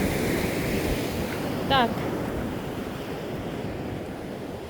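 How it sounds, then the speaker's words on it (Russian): Strong wind drives Black Sea waves onto the shore, a continuous loud rushing surf mixed with gusty wind buffeting close by, with a brief spoken word partway through. "Ну смотрите, какие волны"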